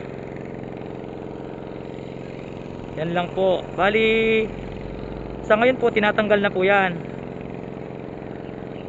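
An air-cooled diesel engine pump runs at a shrimp and fish pond harvest in Pampanga, giving a steady low drone throughout while someone speaks over it in two short bursts.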